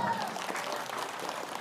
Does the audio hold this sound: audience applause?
yes